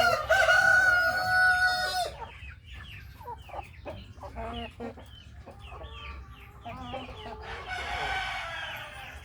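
Brahma-cross chickens on a free-range farm: a loud nearby rooster crows at the start and again near the end, with steady clucking between.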